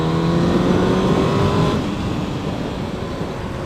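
A sport bike engine hums steadily at 4,500 RPM in fifth gear while cruising in a straight line, a loud continuous drone with wind rush that eases slightly partway through.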